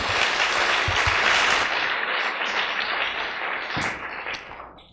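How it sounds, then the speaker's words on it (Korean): A church congregation applauds during a pastors' seminar, with a burst of dense clapping that swells briefly and then gradually fades out. "자, 박수로 드리니까 영광 돌립니다."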